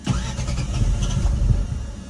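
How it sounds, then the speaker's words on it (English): A car engine cranking at a gas station, trying to catch and then dying out, a steady low churning rumble that stays close and loud for about two seconds with no voices over it. "It like tries to start and then it quits."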